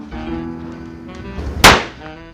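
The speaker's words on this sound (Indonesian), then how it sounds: "Rasain lu makan tuh petasan." A single firecracker bursts with a sharp, loud crack partway through, following a stretch of humming, tonal background voices and sound.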